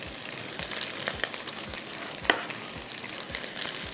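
Onions tossed into a pan with fried beef for black pepper beef, giving a soft steady sizzle punctuated by regular low thumps of stirring and one sharp metallic clink midway, fairly quiet and close.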